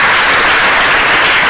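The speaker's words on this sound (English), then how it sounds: "Let's clap for him." Loud, dense audience clapping at a leadership forum, a continuous wash of hands applauding close by for the whole brief moment.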